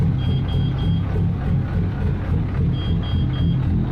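A truck engine in a trucking simulator game idles with a low rumbling drone throughout, while faint repeating high beeps come and go in short runs.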